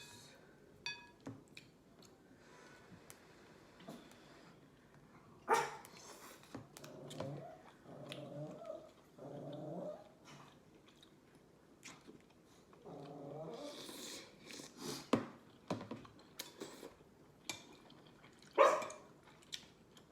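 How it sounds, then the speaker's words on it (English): A pet dog indoors near a meal table whimpers and gives a few barks, with intermittent high whines and short yelps among light clatter and no clear speech. "please excuse my dog, you guys."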